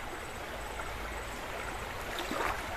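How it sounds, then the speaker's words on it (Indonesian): Water splashes and burbles around someone wading into a clear, rocky river, a steady broadband rush of flowing water with a few brief louder splashes near the end and no voices. "ini saya nyemplung di sungai"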